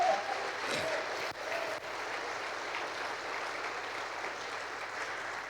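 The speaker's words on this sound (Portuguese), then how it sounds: "Vocês podem aplaudir Jesus?" A church congregation claps for Jesus in a sustained, even round of applause with some crowd murmur, lasting several seconds.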